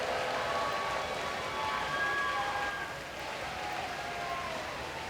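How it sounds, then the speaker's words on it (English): A hockey arena crowd reacts unhappily to a penalty call, a dense, sustained wash of murmuring, grumbling and scattered shouts that swells and then eases slightly, with faint whistles or squeaks cutting through. "the crowd not terribly happy with that"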